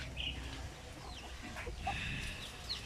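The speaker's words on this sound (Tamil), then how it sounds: "இந்த கோழி கொத்தும்" A chicken clucks softly a few times against a quiet outdoor background, fairly faint and at a moderate distance.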